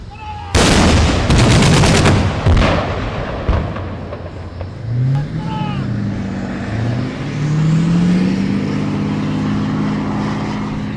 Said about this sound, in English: two Pendekas and two Lincoln 35mm that will engage target number 7. Please protect your ears and ready for firing.